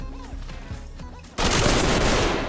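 A .45 ACP gun fires in the tactical shooter Ready or Not, a dense burst of loud, rapid shots erupting abruptly after quieter game sounds and continuing to the end.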